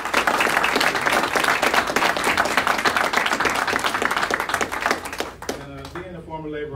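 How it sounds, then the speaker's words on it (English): Audience applause fills a religious gathering honoring a minister, a dense, loud wash of clapping that fades near the end as a voice begins speaking over it. "So let's give a round of applause for the legend."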